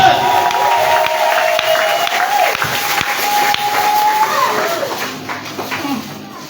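A church congregation cheers and acclaims loudly, a dense crowd roar with shouts and a sustained high call, steady for most of the stretch before easing toward the end.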